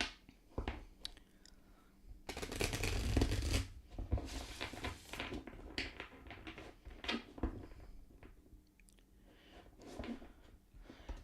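Tarot cards shuffled by hand: soft, irregular riffling and papery slaps in short bursts, fairly quiet and close, with a louder flurry near the start.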